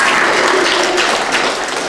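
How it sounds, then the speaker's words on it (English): Audience applause at a Black History Month art exhibit unveiling, a dense, loud, continuous wash of clapping with no pauses for the full span. "You should applaud for them."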